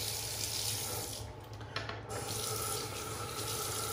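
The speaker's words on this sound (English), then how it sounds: "while I rinse off my second pass" Water runs steadily from a bathroom tap into the sink while a face is rinsed after a shave, a continuous close splashing stream with a brief dip partway through.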